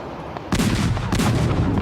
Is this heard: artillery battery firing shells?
yes